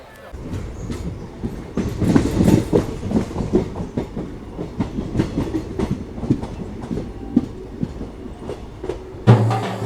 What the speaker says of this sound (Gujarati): આપણી ટ્રેન આવી ગઈ છે જલારામ બાપાના ધામ વીરપુર રેલવે સ્ટેશન ઉપર